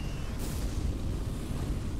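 In Arcane Odyssey, a poison gas cloud is ignited into a fiery explosion. A deep rumbling blast rolls on for two seconds with a brief bright burst near the start, and no one speaks.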